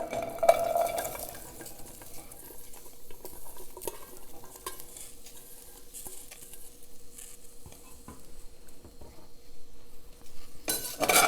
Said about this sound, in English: now I will add the okra directly to the pan